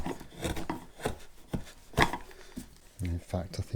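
A sharp chisel carving wood on a Stratocaster guitar neck, making a series of scraping, shaving strokes and dull knocks at an uneven pace, close and moderately loud, with someone talking in between.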